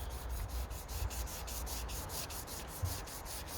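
Wet sandpaper rubbing steadily over a BMW side indicator lens, a continuous close scratchy hiss with a faint back-and-forth rhythm and no talking.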